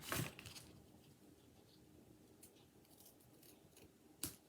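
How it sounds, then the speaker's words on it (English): Scissors snip paper while a folded birthday card is trimmed, a few quick crisp cuts at the start and one more near the end over a quiet room. "snip that off"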